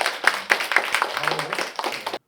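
An audience at a lecture on the Joseon era gives a professor a short burst of applause, many hands clapping densely together for about two seconds before stopping abruptly, with a faint voice mixed in.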